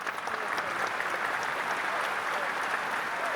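Audience at the Jashn-e-Rekhta Urdu poetry gathering in London applauds, a steady dense clatter of many hands clapping throughout without pause.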